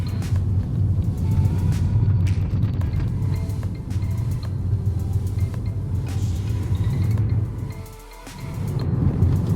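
Tesla Model S with a yoke steering wheel driving through tight turns, a steady low road and engine rumble running throughout with a brief dip in loudness near the end.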